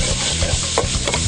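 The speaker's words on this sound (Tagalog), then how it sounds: "Sa tinunaw na margarine, iginisa ang bawang at sibuyas." Garlic and onion sautéing in melted margarine for crocodile kare-kare, a steady close sizzle with a spoon stirring and scraping through the pan, no voices.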